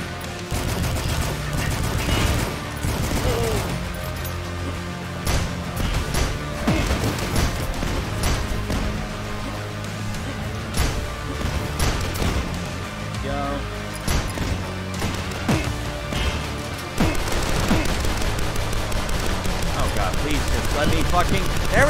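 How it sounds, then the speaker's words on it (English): Rapid pistol fire in the retro shooter Dusk: dense, steady volleys of sharp shots run throughout over a busy game soundtrack, with a voice talking along the way. "Rapid fire pistols, boyos."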